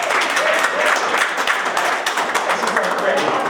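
An audience at a ribbon-cutting ceremony for a golf course and conference center breaks into applause, a dense burst of many hands clapping steadily under a bright crowd wash.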